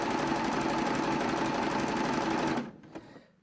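A sewing machine runs a stretch stitch down the arms of a raglan jersey top, a loud steady whirring buzz close by that stops abruptly, followed by a small click.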